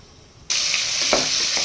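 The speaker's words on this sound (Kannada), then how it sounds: "ಒಂದು ಕುಕ್ಕರ್ಗೆ ಎಣ್ಣೆ ಸಾಸಿವೆ ಕರುವಿನ ಸೊಪ್ಪು ಕಡಲೆಬೇಳೆ ಹಾಕ್ಕೊಂಡು ಚೆನ್ನಾಗಿ ಫ್ರೈ ಮಾಡಿಕೊಂಡು" Oil, mustard seeds, curry leaves and chana dal hit a hot pressure cooker and burst into a loud, steady sizzle, with a few crackles and pops as the seeds fry.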